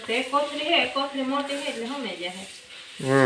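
A spice tempering sizzles in a pan while puffed-rice laddoos are made at home, with a soft steady hiss running beneath close conversation.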